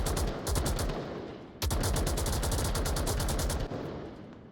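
Rapid bursts of gunfire in the VR shooter Onward during a competitive match, dense repeated shots in clusters with a sharp louder volley midway, loud and close with no talk.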